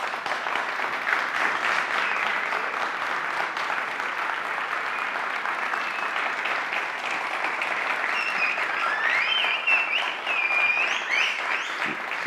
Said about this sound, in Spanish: Si se ponen a aplaudir me quitan tiempo